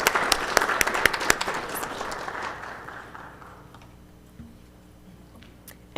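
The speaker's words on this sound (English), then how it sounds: "let's give a round of applause for Arbor Day once more in the city of Warner Robins" A council meeting audience applauds an Arbor Day proclamation, with sharp individual claps at first. The clapping thins and fades out over a few seconds, leaving a quiet room.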